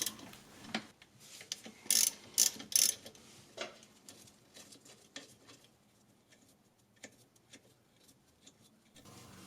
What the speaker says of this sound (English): The two slide pins are removed with a 13mm socket.